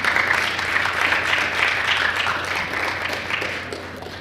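A room full of people applauding at a press briefing, steady clapping that gradually fades toward the end.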